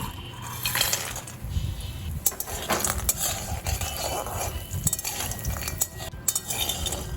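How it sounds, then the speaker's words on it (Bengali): Lentil dumplings (bori) fry in hot mustard oil in a wok over medium heat: close, busy clinks and scrapes of a utensil against metal over a faint, steady sizzle, with no talking. "তেলটা গরম হয়ে গেছে, এই তেলে আমি কিছুটা বড়ি ভেজে নেব।"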